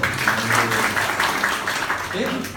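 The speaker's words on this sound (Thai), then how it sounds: "ปรบมือให้ด้วย" Seminar attendees at a marketing presentation clap for a few seconds, a moderate patter running under a voice that keeps talking throughout.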